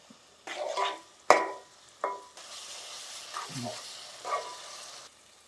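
Onions and green chillies dropped into hot oil for brinjal chicken curry, with clattering stirs and a sharp clank, then a soft, steady sizzle underneath.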